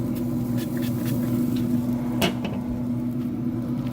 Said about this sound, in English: Let's shut the lid.